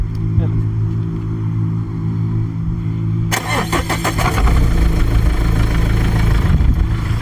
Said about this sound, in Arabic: اسمع الضربه ديال الموتور